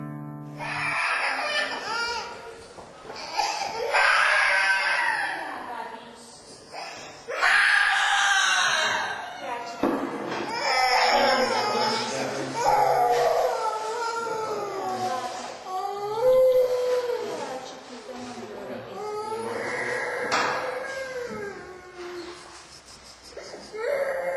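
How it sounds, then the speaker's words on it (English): A young boy screams and cries desperately for his mother just before surgery, loud, sustained wails with sobbing breaks across the whole stretch, heard up close. "hearing him desperately scream for his mother"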